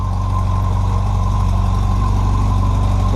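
A started motorcycle idles on a cold day, a steady, close, loud engine drone with a low, even throb that holds unchanged throughout.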